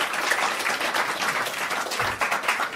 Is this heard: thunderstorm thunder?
no